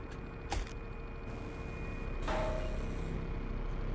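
A dump truck engine in the video game Another Crab's Treasure: a steady low rumble with a hiss over it and a couple of brief clanks, fairly faint and continuous.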